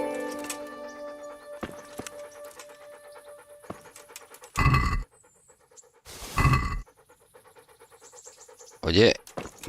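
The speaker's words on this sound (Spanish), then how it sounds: "Perro, quita. Chucho." A dog in the medieval role-playing video game Kingdom Come: Deliverance pants in three loud, breathy bursts between quieter game ambience and scattered clicks, with someone speaking.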